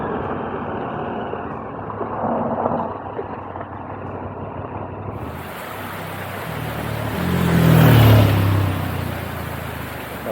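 A 2021 KTM 1290 Super Adventure S motorcycle engine while riding, a loud rumble blended with heavy wind rush that swells to a peak near the end.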